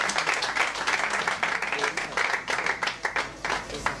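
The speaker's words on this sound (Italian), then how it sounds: "Un applauso a Emiliano" Audience applause at a futsal awards event for a winning club coach, steady dense clapping over the full span with a few louder accents, mid-distance, under a faint murmur of voices.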